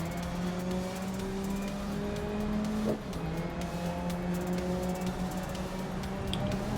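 Race car engines drone steadily in the GRID Legends racing video game, a continuous near roar with shifting pitch and no talk over it.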